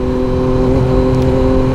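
A 2024 Yamaha MT-09 motorcycle with an aftermarket exhaust, revving close and loud in low gear, a steady droning engine note held through a short burst.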